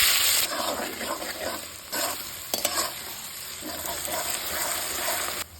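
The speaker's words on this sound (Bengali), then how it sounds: "এখন আমরা পেঁয়াজটাকে ভেজে নেব।" Onions frying in hot mustard oil in a wok for mutton curry, a steady close sizzle with bursts of hissing and stirring scrapes, no talking.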